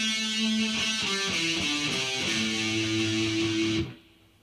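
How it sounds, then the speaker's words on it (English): Distorted electric guitar plays a pentatonic scale for rock and metal, stepping through sustained single notes one after another, loud and alone, before cutting off sharply near the end. "The first one is the pentatonic scale."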